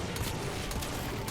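A hard-recoiling pistol firing in the sci-fi shooter Warframe, a dense, loud, continuous barrage of blasts with no voices.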